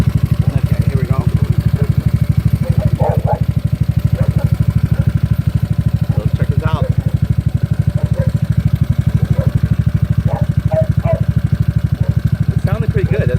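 A GY6 scooter engine idles steadily with a low, even putter from the exhaust, loud and close, while someone talks over it.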